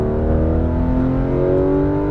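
Porsche 911 GT3 RS engine pulling steadily under throttle on a racetrack, a loud, continuous close-up drone with rising harmonics and no pauses.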